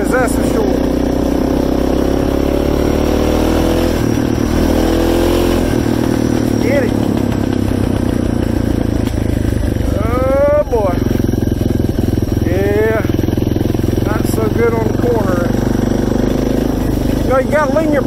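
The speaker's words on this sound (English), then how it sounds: "I'm loving this new exhaust I got on, man. It makes some noise, that's for sure." A Suzuki DR650 dual-sport motorcycle with an aftermarket exhaust drones loudly and continuously on a mountain gravel road, with a deep throbbing rumble, while someone talks over it.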